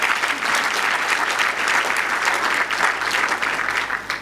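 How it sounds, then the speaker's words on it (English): Audience applause fills the room at an event in Tanzania honouring a business leader, a loud, steady, dense wash of clapping hands sustained throughout with no voices over it. "Another big round of applause."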